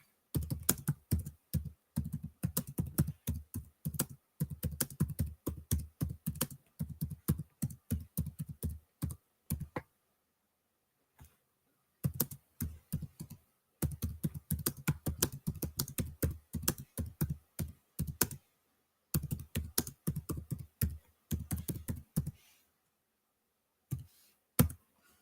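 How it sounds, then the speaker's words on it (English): Bursts of typing on a computer keyboard, quick key clicks in rapid runs with brief pauses between phrases, close and fairly crisp, no talking. "let me type Jeff a message"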